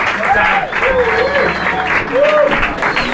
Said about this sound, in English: Give it up for your host, everybody